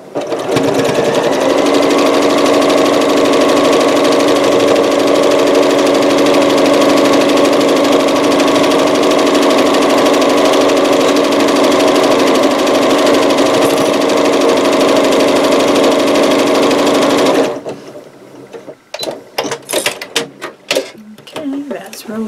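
A sewing machine stitching quilt seams, a loud steady mechanical whir running for about seventeen seconds before it stops, followed by scattered handling noises and a voice.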